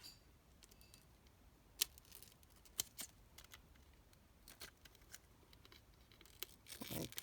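Scissors snip through craft material while a pocket flap is made for a handmade gift: a series of quiet, sharp, irregular cuts close by with light rustling, ending in a brief louder burst of handling.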